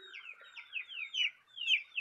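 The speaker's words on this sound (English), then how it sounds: "Rooster." A rooster calls in a quick series of short, bright, repeated clucking cries, close and clear with no talking.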